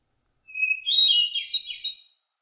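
A hermit thrush sings one song in a spring forest: a clear sustained opening note followed by a rising cascade of ethereal, fluting phrases, heard alone against silence.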